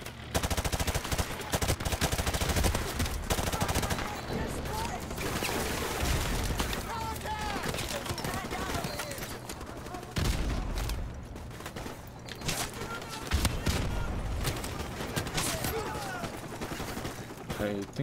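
Rapid turret gunfire from the video game Modern Warfare Remastered rattles in dense bursts, loud and sustained with brief pauses between volleys, while someone talks over parts of it.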